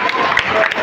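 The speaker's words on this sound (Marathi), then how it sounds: "या ठिकाणी उपस्थित जोरदार टाळ्या पाहिजे." A burst of applause from an audience at a birthday celebration, loud and brief, with a voice briefly audible through the clapping.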